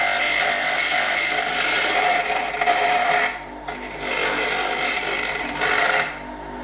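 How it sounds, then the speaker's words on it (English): A bench grinder works the rough ends of wooden pieces being rounded and smoothed for handmade farmhouse cabinets. It gives a continuous bright, hissing abrasive whir that dips twice as the wood is lifted away, then resumes. "Clean up the scaggy ends on the bench grinder."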